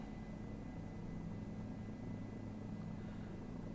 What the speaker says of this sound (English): I'm just circling in the helicopter.